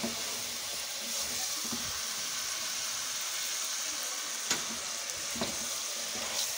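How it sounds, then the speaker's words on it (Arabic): Beef sautéing in ghee with spices in a cooking pot, a steady close sizzle and fry hiss running throughout, with a few brief clinks from stirring. "جبنا حته سمنه وحطيناها في الحله، شوحنا اللحمه كده غيرت لون"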